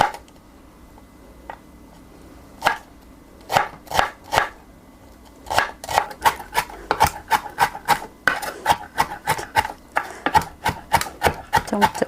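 A knife chops food on a board while Korean jeon with a beef filling is prepared: scattered single strikes first, then a quick, even run of close, crisp chops.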